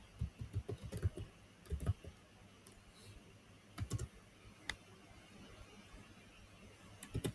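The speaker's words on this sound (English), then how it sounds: "we are typing" Typing on a computer keyboard at a desk, with scattered clusters of light key clicks and pauses between them, fairly close and quiet.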